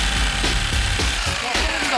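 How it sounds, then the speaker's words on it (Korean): A power tool cuts a flue hole for a wood-burning stove through the roof of a round cypress sauna, giving a loud, continuous grinding whine with rhythmic chattering pulses, heard up close. "화목 난로 설치를 위해 연통 구멍을 뚫어줍니다."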